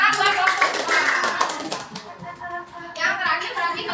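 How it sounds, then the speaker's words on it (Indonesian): Children in a classroom clap for a group of classmates, bursts of rapid close clapping that pause briefly and pick up again, with voices mixed in. "Tepuk tangan buat kelompok"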